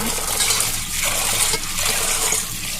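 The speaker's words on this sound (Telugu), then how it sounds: "ఒక రెండు మూడు సార్లు బాగా ఇలా వాష్ చేసుకోవాలి" Soaked chickpeas being washed in water, a close, continuous swishing and sloshing with soft trickles that swell and ease in waves.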